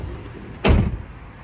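A single door of a 1956 Ford Fairlane Sunliner convertible shuts with a solid, close thud, followed by quiet background.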